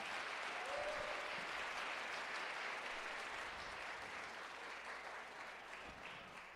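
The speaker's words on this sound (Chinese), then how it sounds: "我们再一次用一个掌声来鼓励他们。" A church congregation at a Sunday worship service applauds the youth who led the service, a sustained wash of many hands clapping that stays even and somewhat distant for several seconds, with no talking over it.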